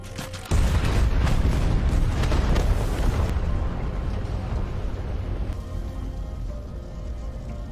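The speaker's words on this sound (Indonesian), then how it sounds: "Dan setelah itu pun ledakan pun terjadi." A film explosion: a sudden massive blast erupts into a long, roaring rumble that slowly settles into a heavy, sustained low drone.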